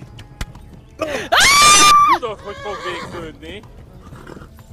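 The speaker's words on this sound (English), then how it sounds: "You gotta keep galloping, horse!" A horse gallops in Kingdom Come Deliverance, its hooves thudding under a loud, piercing whinny while a player shouts in alarm.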